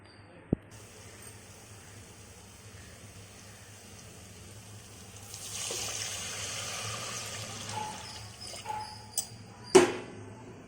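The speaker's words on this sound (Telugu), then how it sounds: "కొబ్బరి పాలు ఇక్కడ 2 గ్లాసులు ఉన్నాయి, మిగతాది వాటర్ పోసుకోవాలి" Coconut milk and water poured into basmati rice for a South Indian coconut pulao, a faint steady trickle swelling after about five seconds, with a sharp knock early on and a few clinks near the end.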